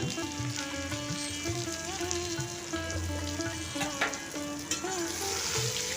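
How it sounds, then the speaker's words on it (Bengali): Onions fry in a pan with turmeric and dry spices for a Bengali Bombay duck curry, sizzling and crackling steadily up close while a spatula scrapes and stirs. "একটু লাল লাল করে ভেজে নেব এরপর কিছু শুকনো মশলা দিয়ে দিচ্ছি যেমন একটু হলুদ দিয়ে দিলাম"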